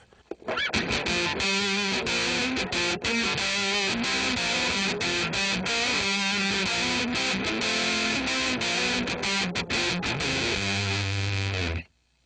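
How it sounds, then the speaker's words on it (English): A heavily fuzzed electric guitar played through an Electro-Harmonix Holy Stain pedal on a dark fuzz setting plays a dense, gritty riff with choppy stops, ending on a sustained low note that cuts off abruptly. "so you can hear just what the fuzz sounds like by itself"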